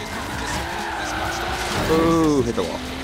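A car in Forza Horizon 3 scraping into a wall during a race, with a loud skidding screech and squealing tyres over engine roar, near and brief, with a voice speaking over it.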